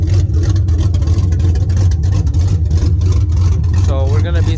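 A Chevy Silverado truck engine with open headers runs loud and close, a deep rumbling exhaust that surges in short revs throughout, with a voice briefly over it near the end.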